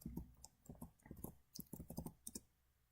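Quick keystrokes on a computer keyboard as someone types a search word, a close, irregular run of soft clicks that trails off near the end.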